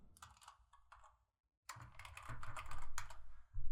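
Quick bursts of typing on a computer keyboard, close and clear, with a short pause before a denser run of rapid keystrokes.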